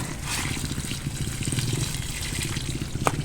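Liquid fertilizer solution pours in a circle onto soil around a grape vine, a soft continuous trickle and splash up close with a faint background hum.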